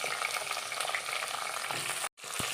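Tomatoes frying in coconut oil for a curry, a dense close sizzle that runs steadily with a brief break near the end and a soft clunk.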